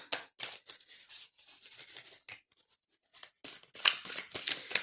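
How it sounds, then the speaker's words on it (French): Tarot cards being shuffled and pulled from the deck, with repeated soft rubbing, sliding and flicking of card stock in quick close bursts, a short lull, then a brisker run of handling. "Laissez-moi juste encore sortir quelques cartes."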